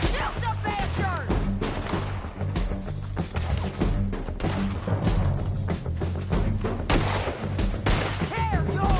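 Rapid video game gunfire crackles in dense, repeated bursts throughout, sharp reports stacking over a busy battle mix with shouted voices mixed in.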